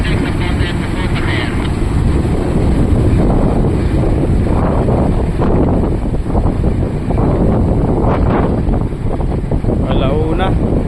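Passenger ship Poseidon 53 pulls out from port with a loud, continuous engine rumble and wind buffeting the microphone, while people talk over it.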